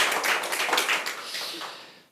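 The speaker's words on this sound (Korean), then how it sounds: "박수 한번 다 같이 치고 시작했으면 좋겠습니다" An audience at a social-enterprise book concert claps together, a dense burst of many hands that swells briefly and then fades out within about two seconds.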